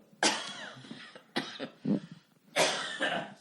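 Three harsh, loud coughs burst out in quick succession, close up, with short pauses between them and no talking.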